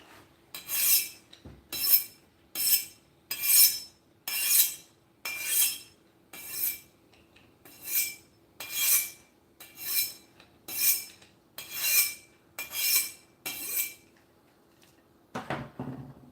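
A vintage Chinese chef's knife being deburred: about fourteen rhythmic metallic scraping strokes at a steady, even pace, close and crisp, ending with a soft clunk.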